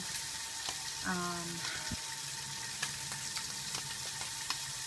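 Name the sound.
steak frying in a pan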